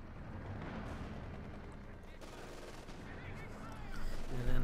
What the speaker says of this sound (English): some good hits with the machine gun and the main gun there